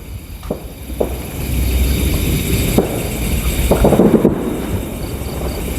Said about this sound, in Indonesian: kayak kembang api mas